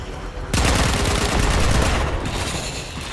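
Machine pistol fire in the video game Warframe breaks out after a brief quiet moment and becomes a steady, rapid stream of loud, close shots lasting a few seconds before easing slightly.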